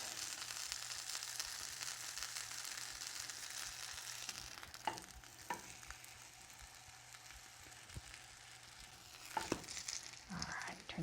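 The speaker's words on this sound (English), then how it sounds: "Just going to fry each side, just to make sure I get the any uncooked flour, batter." Old Bay battered garden tomato sandwich frying in butter, a soft steady sizzle and crackle with a few louder pops and scrapes near the end, close but fairly quiet.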